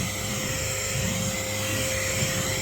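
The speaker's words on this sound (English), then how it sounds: "I can use a vacuum." A HŌM handheld mini vacuum cleaner from an air duster kit runs steadily, a loud continuous high-pitched motor whine with a constant airy hiss and no speech over it.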